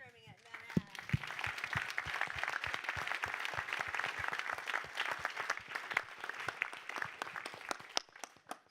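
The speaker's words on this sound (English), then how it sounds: "Let's have a hand for crowd brainstorming at Manhattan" Sustained audience applause at a conference session on inclusive precision medicine, dense steady clapping from a large crowd filling the room, with a few sharper near claps early on.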